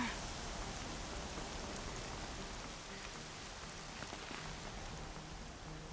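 Rain in the video game Horizon Zero Dawn falls as a steady, soft hiss of drops hitting surfaces, fairly faint and unbroken for the whole stretch.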